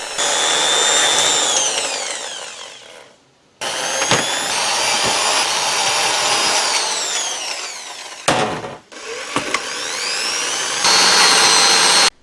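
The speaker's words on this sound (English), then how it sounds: "I started drilling all the holes to mount the electronics." Power drill boring holes into robot arm parts for mounting electronics, loud whining bursts that rise and fall as the bit cuts, broken by short pauses between holes.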